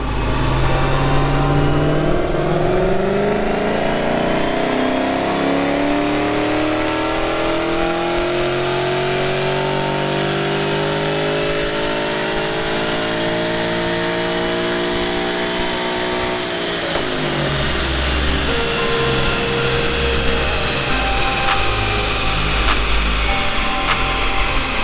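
A 2011 Ford Mustang GT with the 5.0 Coyote V8 revs hard on a dyno, its pitch climbing steadily through a long full-throttle pull before dropping off and settling into a rumbling idle, loud and close.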